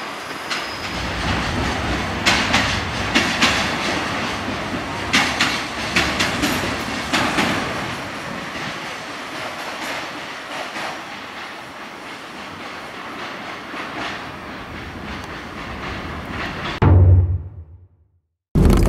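A freight train rolls past at close range, its wheels drumming over rail joints in a steady rapid clickety-clack with squealing and rumble, then cuts off abruptly near the end.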